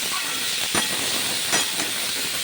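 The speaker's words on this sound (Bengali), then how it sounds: "এবারে পেঁপেগুলো আর আলুগুলো আমি ভেজে নিচ্ছি।" Raw papaya and potato pieces fry in a pan, giving a steady, even sizzling hiss with a few soft crackles and pops.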